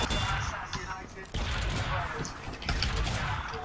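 Gunfire in the video game Team Fortress 2 rattles in dense, continuous volleys of loud shots across the whole stretch, busy combat noise with no pause.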